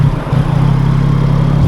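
Yamaha MT-09 motorcycle with its CP3 triple engine, revved close by with a loud, steady, throbbing drone that holds after a brief dip at the start.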